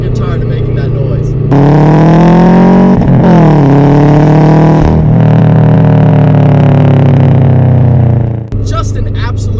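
A modified 2007 Subaru WRX engine revs hard and loud through rising gears, its strained harmonic note climbing, dipping at shifts and climbing again, close up and dominating.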